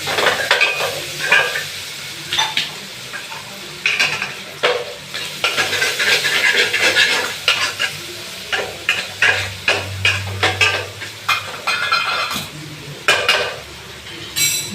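Small shallots sautéing in a pan for a bottle gourd dish, a continuous sizzle broken by repeated rhythmic scrapes and clanks of a ladle stirring against the metal.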